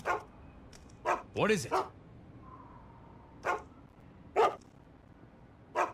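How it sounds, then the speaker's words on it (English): A dog in the stealth game Mark of the Ninja barks at an intruder in short sharp bursts, several single barks spaced out over a few seconds, with a brief whimpering yelp in the middle and a voice speaking between them. "Dog smells trouble."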